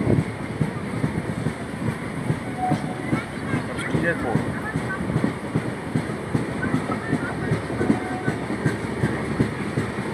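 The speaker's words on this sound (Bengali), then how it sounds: "তবে ট্রেনটা খুব ভালো যাচ্ছে" A train on the Digha to Howrah line rumbles steadily along the tracks, with a continuous low roar and faint rhythmic clatter throughout; some indistinct voices sit underneath.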